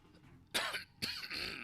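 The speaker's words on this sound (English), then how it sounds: "Why am I coughing?" Two sharp, close coughs from a man, the second followed by a short throaty tail, set against quiet background noise.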